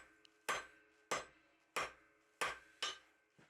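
A hammer strikes a steel bar on an anvil while a blacksmith fullers it over the anvil's curved edges: six loud, ringing metallic blows in a steady rhythm, each decaying before the next, with no talk.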